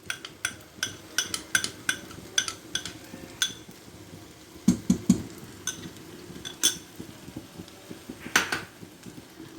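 Condensed milk being stirred into a banana and chira mixture for sandesh: a spoon clinks and scrapes repeatedly against a bowl at a steady, uneven rhythm, close and fairly soft.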